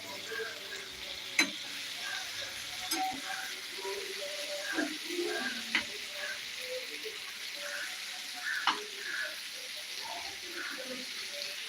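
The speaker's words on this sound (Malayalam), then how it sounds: "ഒന്ന് നമുക്കൊന്ന് ഇളക്കി കൊടുക്കണം കേട്ടോ നല്ല രീതിയിൽ ഫ്രൈ ആയി ഇപ്പോൾ വരും" Okra fries in a pan with a steady, moderate sizzle, punctuated by occasional sharp clicks and scrapes from stirring.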